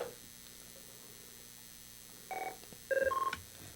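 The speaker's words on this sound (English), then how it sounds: "we have another phone call." A telephone call comes in during a call-in author interview: a few short electronic tones chirp near the end after a quiet, humming stretch, with no talk over them.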